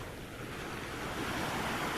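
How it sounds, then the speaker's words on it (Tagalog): Steady wash of surf rolling onto a beach shore, a continuous broadband rush with some wind noise on the microphone, unbroken and without voices. "Ito yung tatawag nilang dalampasigan."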